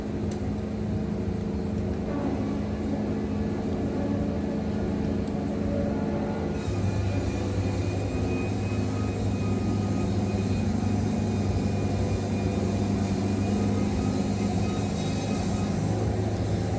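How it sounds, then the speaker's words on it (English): A Woodmizer LT70 sawmill cutting a hickory log, with the engine and blade droning steadily and loudly, its tone shifting partway through as the cut continues. "Just want to let you see it cut some hickory straight."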